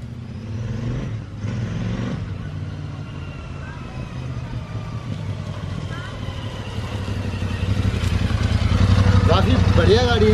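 A Royal Enfield Interceptor 650 motorcycle rumbles steadily and grows louder as it pulls away, its engine note rising toward the end, with people talking over it.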